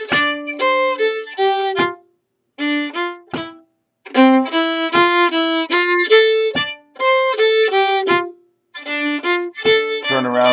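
The A part of the Irish tune Julia Delaney played on a melodic instrument, phrases of quick, clear notes in bursts separated by short pauses, close and loud with no talking.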